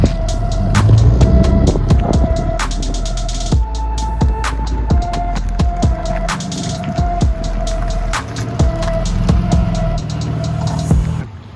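A BMW Z3 3.0 roadster on a long drive, with a steady low engine drone and road rumble from inside the car, broken by repeated sharp clicks and thumps and a faint tonal hum.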